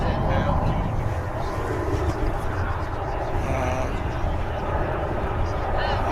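Qantas airliner at DFW Airport, a dense continuous engine rumble and roar heard fairly close and loud throughout, with talk over it.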